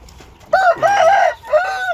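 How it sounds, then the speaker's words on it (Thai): A rooster crows loudly nearby at a duck farm in Israel in two drawn-out calls, a rising, wavering cry followed by a shorter one. "เสียงไก่"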